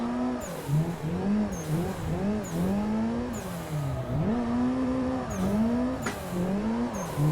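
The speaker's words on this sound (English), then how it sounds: "Let's really rely on the handbrake to get the car way out to those walls" A sim racing car, driven with a Heusinkveld Handbrake V2, drifts wide toward the walls with a continuous engine whine that rises and falls as it revs. Tire squeal breaks in repeatedly along the way, loud and close.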